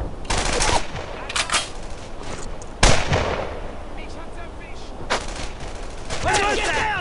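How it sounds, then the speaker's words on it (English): Gunfire in the WWII shooter Brothers in Arms: Earned in Blood, with loud, dense bursts of rifle and machine-gun fire, a sharp heavy blast near the middle and continuous battle noise throughout. "Taking fire!"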